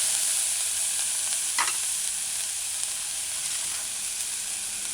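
Mashed garlic sautés in a pan for a vegan red cabbage, broccoli and coconut stew, giving a steady, close sizzle with a short scrape of stirring partway through. No one speaks.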